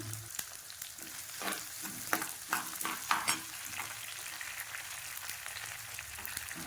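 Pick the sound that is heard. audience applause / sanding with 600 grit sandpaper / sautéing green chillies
sautéing green chillies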